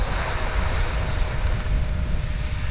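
Marlin 64mm EDF model jet on its short takeoff run, a steady, loud whine of the electric ducted fan with a rushing airflow roar, continuous and close throughout.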